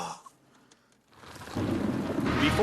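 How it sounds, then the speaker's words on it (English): A thunderstorm breaks out: a quiet opening with a few faint ticks, then a heavy wash of pouring rain surges in and holds loud and steady to the end. "Oh boy, we got a storm. Rain comes pouring down."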